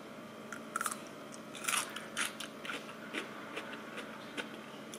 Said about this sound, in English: And you can hear the crunch. They're still very, very crunchy.